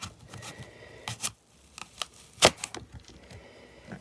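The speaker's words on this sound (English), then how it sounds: "An apple, I'm just going to cut it in half" An apple sliced in half with a fairly dull kitchen knife during a fruit-printing craft session: scattered soft crunches and scrapes, then one sharp, loud crack as the blade splits through, followed by quieter handling noises.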